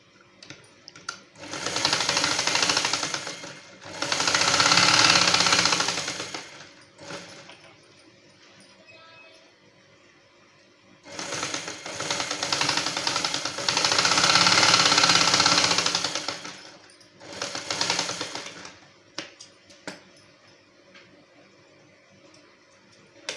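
A sewing machine stitches the shoulder seam of a dress coat in two long bursts, each a loud, fast mechanical whir of several seconds with short stops between runs and quiet gaps in between.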